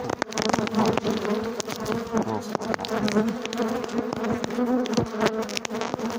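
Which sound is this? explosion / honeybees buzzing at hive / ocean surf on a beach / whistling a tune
honeybees buzzing at hive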